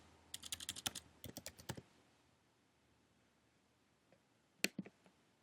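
Quick bursts of close, crisp clicks from a computer keyboard as a short search word is typed, followed by quiet and then a few final isolated key taps.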